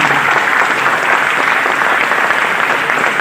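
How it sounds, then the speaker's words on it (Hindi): A school farewell party audience in Gujrat applauds loudly for their parents, a dense steady roar of clapping from many hands that holds evenly throughout. "आप अपने वालदैन के लिए यहाँ पर क्लैपिंग जरूर करें"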